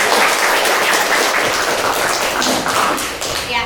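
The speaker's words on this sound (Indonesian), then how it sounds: "Beri tepuk tangan untuk kelompok 2." A classroom of students claps together for a group presentation in a geography lesson, dense steady applause that tapers off near the end.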